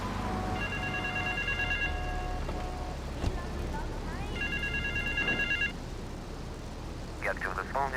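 A payphone rings in Grand Theft Auto III, two bursts of bright electronic trilling separated by a pause, set over a constant low city rumble with a voice at the end.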